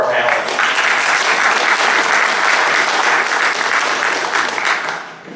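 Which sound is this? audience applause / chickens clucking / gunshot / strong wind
audience applause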